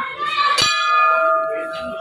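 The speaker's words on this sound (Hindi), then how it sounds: "एक बार घंटी बजा दीजिए।" A temple bell is struck inside a Hindu temple during a Holi visit, giving a sharp clang that rings on with a sustained tone, heard amid faint background voices.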